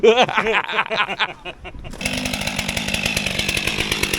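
A voice or laughter at first, then the small fuel-injected engine of a STIHL MS 500i chainsaw sputters and catches, settling into a steady buzzing idle drone nearby.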